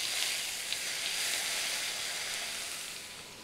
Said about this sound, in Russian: Заливаю теперь это все маслом.